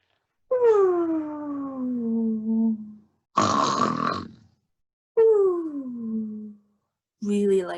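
A person imitates a troll snoring really loudly, giving three long, drawn-out, groaning snores with gritty rasping breaths between them, close and loud during a telling of the Three Billy Goats Gruff.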